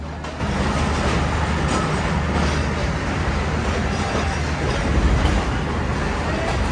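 A Pakistan Railways train pulls out of platform one at the station, its cars giving a steady, loud rumble and rolling clatter from start to finish.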